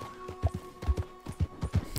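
Horse galloping in Red Dead Redemption 2, heavy hoofbeats thudding in an uneven rolling rhythm, close and fairly loud, with little else around them.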